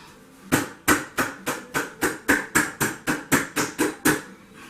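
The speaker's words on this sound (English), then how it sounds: "I'm going to give it a tap down on the ground," A hot process soap mould is rapped against the ground about a dozen times in a quick, even rhythm, each knock sharp, close and hollow, with no talking.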